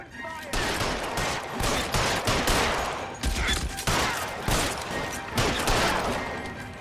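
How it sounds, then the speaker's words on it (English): Sustained gunfire in LA Noire, dense bursts of shots and rapid automatic fire crackling continuously, loud and close throughout with brief gaps between volleys. "Open fire!"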